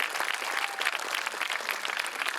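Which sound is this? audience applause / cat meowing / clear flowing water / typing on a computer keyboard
audience applause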